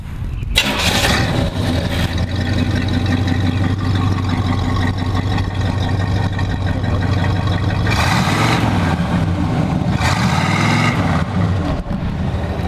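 A 1970 Pontiac GTO V8 runs loud and close, holding a steady throaty idle. It is revved twice, with swelling pitch sweeps near eight and ten seconds.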